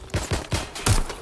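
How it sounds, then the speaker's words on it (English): Gunfire in the Watch Dogs Legion video game: four sharp shots in fairly quick succession, close and loud, the last one heaviest, with no talk. "I'm getting shot at here! Taking fire."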